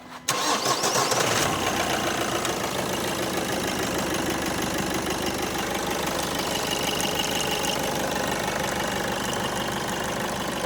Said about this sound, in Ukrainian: Зняли шланг, запускаємо двигун і дивимось.